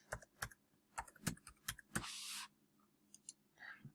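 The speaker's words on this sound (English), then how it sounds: "I copy this, Control-C, Control-V on the keyboard" Fingers typing copy and paste shortcuts on a computer keyboard, a handful of crisp separate key clicks in an uneven rhythm, then a short burst of rustling noise and a few more faint taps, close and quiet.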